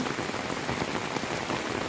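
Heavy monsoon rain pours steadily onto surfaces outdoors near a rising river, a dense, even hiss that holds without a break and with no voices.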